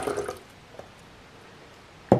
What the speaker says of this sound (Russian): после чего просто добавляю обычную воду